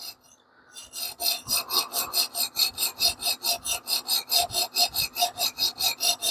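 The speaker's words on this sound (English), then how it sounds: "you can definitely hear the stone on the metal kind of skating like that" Coarse 140-grit sharpening stone reprofiling the edge of a Damascus steel knife, a close, steady rasping stroke repeated in an even rhythm about four times a second, with no talk.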